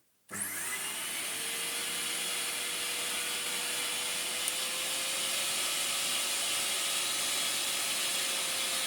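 A restored Daewoo RC705-D / Riccar RC1400 compact vacuum cleaner switches on with its hose fitted, then runs at a steady, loud whining roar close by, with a faint rising motor tone held for several seconds.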